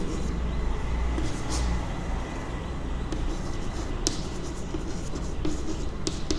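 Chalk or marker scratching on a board during a maths lesson, steady continuous strokes with a few sharper taps, moderately close over a constant low room rumble.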